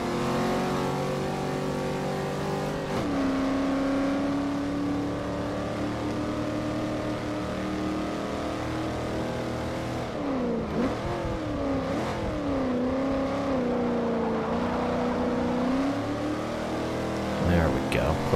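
A classic Pontiac car engine races in Forza Motorsport 4, droning steadily and shifting pitch through upshifts and corners, with a voice talking over it throughout.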